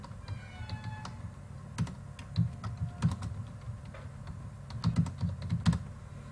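Computer keyboard typing a message, with irregular bursts of key clicks close to the microphone and short pauses between runs, with no voices.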